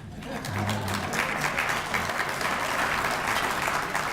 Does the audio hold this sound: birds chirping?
no